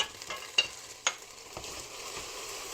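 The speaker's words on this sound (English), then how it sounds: "I'm going to stir that in pretty thoroughly" Hot pecan brittle candy being stirred after vanilla is added: a soft, close sizzle with a few sharp scraping clicks of the spoon against the pan, steady and faint throughout.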